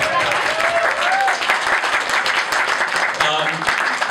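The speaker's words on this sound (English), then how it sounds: "let's give a round of applause." Applause and clapping from an audience at a stand-up comedy show in Melbourne, steady and dense throughout with a few voices calling out over it.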